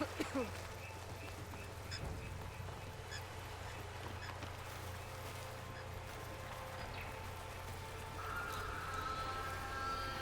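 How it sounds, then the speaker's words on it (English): Birds in the video game Horizon Forbidden West call with faint honking cries over a steady ambient game hum, with a person speaking intermittently over it. "Ooh, birds! Salvaging machine carcasses as usual."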